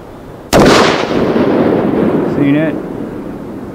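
A single loud .308 Winchester rifle shot fired at a range with 180 gr handloads, a sharp blast at half a second followed by a long rolling echo that decays slowly under steady outdoor background.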